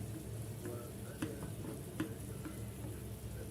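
Onion frying in a pan, a soft steady sizzle close by with a few light taps of a stirring spoon, no voices.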